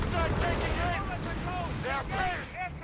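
Game gunfire from a Company of Heroes 3 battle between German and British forces, a steady dense wash of shots and rumbling blasts under a commentator's continuous voice.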